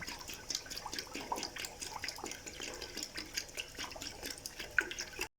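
Water poured into a pot of milk while making boli, a faint, continuous trickling and splashing pour heard close up with no talking.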